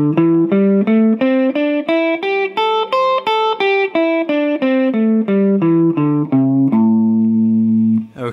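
Guitar with a distorted tone runs up and down the minor pentatonic scale, each note picked in a steady, even rhythm, loud and close, ending on a held low note.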